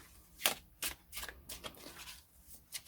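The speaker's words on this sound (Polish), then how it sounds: "z takimi złoceniami nie powinno się w ten sposób tasować" A gilded tarot deck is riffle-shuffled, giving a few crisp bursts of card flutter and snapping edges, close and fairly quiet with short pauses between riffles.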